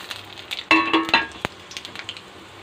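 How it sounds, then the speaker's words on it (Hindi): Whole spices dropped into hot mustard oil for a dhaba-style chickpea curry, a sudden burst of crackling and popping that settles into a lighter sizzle, close up. "तो तेल भी गर्म हो गए, सरसों तेल हरे संगवारी हो। मैं सबो फोरन ला एक साथ डाल देता हूँ।"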